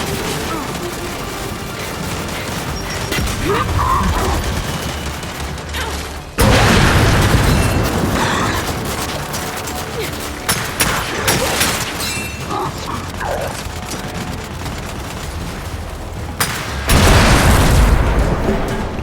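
In the video game Gears 5, a grenade goes off with a heavy boom, followed by bursts of gunfire and a second loud blast near the end. The battle stays close and loud, with voices shouting over it.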